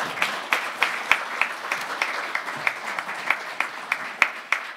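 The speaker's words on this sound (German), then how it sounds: "Applaus" Applause from an audience at an anniversary event, a steady mass of clapping with individual sharp claps standing out in a fairly even rhythm, moderately loud and continuous with no talking over it.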